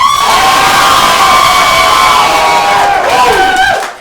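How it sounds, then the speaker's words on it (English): An improv comedy audience at a hip hop-themed show erupts in loud, shrill cheering and whooping with applause underneath, sustained and close before cutting off abruptly at the end. "What would your applause sound like?"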